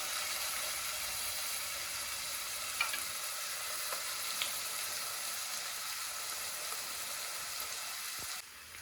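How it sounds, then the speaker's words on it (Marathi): Curry leaves sizzling in hot oil with mustard seeds and cumin, a steady close frying crackle with a few small pops, fading slightly at the end, no talking. "राई जिरा टाकला. त्याच्यात कढीपत्ता टाकते."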